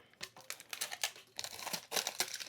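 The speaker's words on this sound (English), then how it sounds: "When they come out of the oven, I like to immediately remove the shrink wrap." Shrink wrap being peeled off a hot sublimated tumbler fresh from the oven, a quiet, close series of crinkling and tearing bursts with short pauses between pulls.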